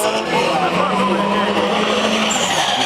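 Drift cars sliding around a corner at a speedway event, tires squealing hard with smoke, engines roaring loudly and continuously throughout under a mix of crowd noise.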